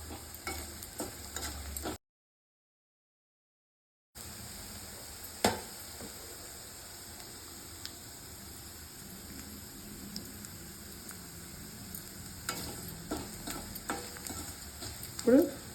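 Turmeric and curry leaves fry in a pan while being stirred for poha, a soft, steady sizzle close by with occasional scrapes, broken by a short stretch of complete silence.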